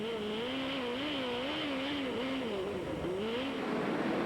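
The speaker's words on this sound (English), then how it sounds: "You can hear the great throttle control" A midget race car on the dirt oval at the 2011 Lucas Oil Chili Bowl Midget Nationals, heard from on board. The engine pitch swings up and down in quick throttle pulses, a steady, moderately distant snarl with no speech.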